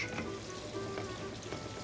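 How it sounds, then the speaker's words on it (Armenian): Steady crackling sizzle of vegetables lightly frying in a pan before rice is added, continuous and close, with no voices. "Թողենք տակդեղն մի քիչ տապակվի"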